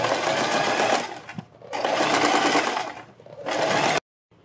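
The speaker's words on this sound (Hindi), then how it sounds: "हम बुकरम के बिल्कुल बराबर में पूरे गले के ऊपर सिलाई लगाएंगे" A sewing machine stitches along buckram on a fabric neckline, its loud, close motor whirring in three rapid bursts with brief slowdowns between them, then stopping abruptly.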